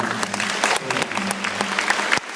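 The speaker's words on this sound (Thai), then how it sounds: "ปรบมือให้ผมได้ครับ" Audience applause during a business talk, a short burst of dense clapping from a crowd with faint voices mixed in.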